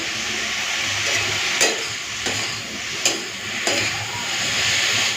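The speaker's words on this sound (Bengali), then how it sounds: "এইভাবে আমি বাঁধাকপিটাকে শাগের মতো করে ভেজে নেব" Shredded cabbage frying in an uncovered pan gives off a steady, loud hiss of sizzling, with a few sharp scraping stirs of a utensil at intervals and no talking.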